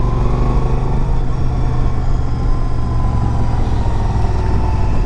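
A 2007 Yamaha V Star 1100 V-twin motorcycle engine runs steadily and smoothly at close range, a continuous low rumble with no break throughout.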